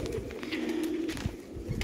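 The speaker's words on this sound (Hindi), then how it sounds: "ये इनके हाथ में कबूतर है" A champion racing pigeon held in a man's hand gives soft, throaty coos close by, a low rolling call repeated over a quiet background.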